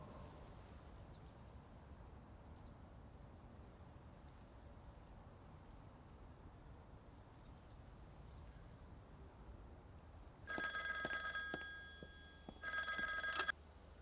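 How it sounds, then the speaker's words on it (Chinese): A telephone rings twice in close succession near the end, loud and near, after a stretch of quiet indoor room tone. "请叫静媛小姐接电话"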